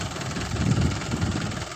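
A 2017 Mahindra 575 DI tractor engine runs steadily at idle, a close, continuous low diesel rumble with a faint rhythmic throb and no talk over it.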